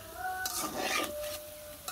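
Banana fritters of flour and sugar sizzle in hot oil in a pan while a utensil scrapes and stirs, lifting them out one by one, with brief clinks of metal against the pan.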